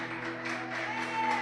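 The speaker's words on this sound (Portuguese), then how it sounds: "Aplauda ao Senhor bem forte" A church congregation at a Saturday service applauds loudly, a continuous crowd clatter that swells toward the end over lingering organ-like musical tones.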